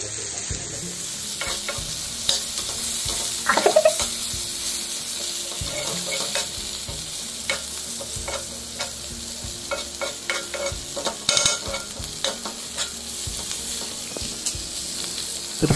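Onions with coriander and mint leaves sautéing in a pan for a vegetable dosa topping: continuous sizzle under frequent spatula stirs and scrapes, with a couple of sharper clanks, no talking.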